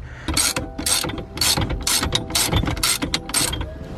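A steering wheel puller is ratcheted on a C5 Corvette steering wheel threaded into aluminum: a rapid run of loud, close metallic ratchet clicks in steady bursts, with no talking.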